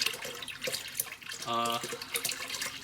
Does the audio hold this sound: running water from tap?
yes